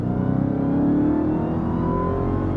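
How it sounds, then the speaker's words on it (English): A Dodge Charger Hellcat King Daytona with a supercharged HEMI V8 pulls hard under acceleration, its loud, close engine note rising steadily in pitch with a layered whine and rich overtones, heard alone without speech. "The supercharger whine, the overtones of HEMI V8"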